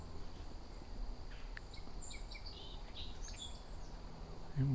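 A song sparrow singing outdoors in autumn, a short faint burst of chirps and trills over a steady insect drone, with no talk.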